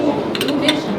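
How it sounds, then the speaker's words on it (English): A metal spoon scrapes and clinks against a plate while mixing molokhia into rice, two or three short bright clinks close by over a low room murmur. "Mix that well."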